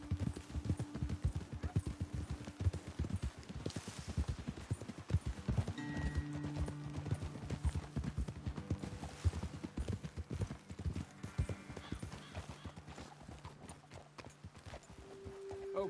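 Horses walk in Red Dead Redemption 2, their hooves clip-clopping in a steady rhythm on the ground, with a brief whinny and faint background sounds, and no talking.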